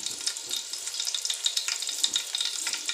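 Whole cinnamon, cloves and cardamom hit hot oil in a pan, giving a continuous bright sizzle with rapid crackling pops, steady and close, with no voice.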